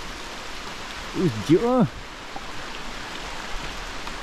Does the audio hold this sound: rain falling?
yes